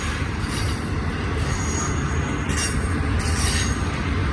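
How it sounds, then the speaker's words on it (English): A freight train of refrigerator cars rolls past at Blue Cut, producing a loud, unbroken rumble of wheels on rail with high metallic wheel squeal running through it. "It's a pretty cool train."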